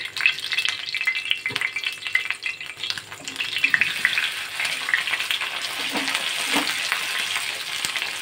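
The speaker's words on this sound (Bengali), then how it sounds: "তো একটুখানি ভালো করে ভেজে নেবো" Prawn kebabs, Chinese-style sheekh kebabs, fry in a pan with a steady close sizzle and crackle throughout, broken by a few soft clanks of the pan.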